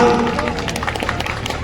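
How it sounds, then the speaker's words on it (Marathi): An audience claps during a Marathi political speech by Sharad Pawar, a dense, even patter of many hands that continues steadily with no voice on top. "टाळ्या वाजल्या पाहिजेत ना"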